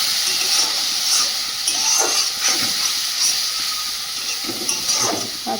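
Water is poured into a pan of frying spice masala for whole-garlic chicken, producing a loud, steady steamy hiss and sizzle that continues close up with small bubbling fluctuations.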